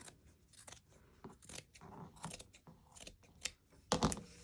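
Scissors snipping through fabric and paper for a collage, with a quick series of close, crisp cuts and a louder snip near the end.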